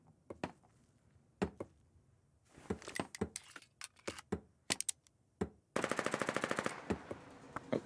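Gunfire in the war game Foxhole: sharp isolated shots scattered across the scene, then a dense rapid automatic burst near the end, fairly close, with no talk.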